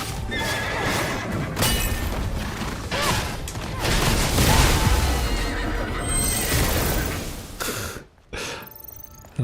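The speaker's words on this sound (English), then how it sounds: "What's up with the horse sounds?" Horse neighs and clip-clopping hooves from the video game Stellar Blade, loud and close, with repeated whinnies over steady hoofbeats and a brief mechanical clatter near the end.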